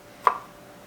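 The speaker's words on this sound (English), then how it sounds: "taking single cardamom pods, putting my knife vertical" A knife set vertically on a single cardamom pod splits it open against a board with one short, sharp crack, heard alone in an otherwise quiet kitchen.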